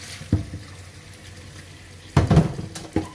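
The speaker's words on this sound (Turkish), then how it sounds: "Ben hep bu şekilde güvecimi yıkıyorum ve temizliyorum." Water runs at a sink while a clay güveç pot is washed, a soft steady trickle broken by a few louder splashes and knocks of the pot against the basin.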